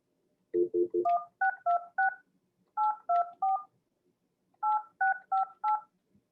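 Telephone dialing tones, a quick run of crisp beeps in three bursts with short pauses between groups, clean and close with no talking.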